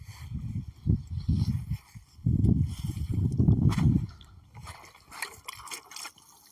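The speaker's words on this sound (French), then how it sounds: "D'abord un petit arrosage." Pond water is poured onto fresh potting soil in bursts, soft low splashing and soaking sounds that come and go, with brief quiet gaps between pours.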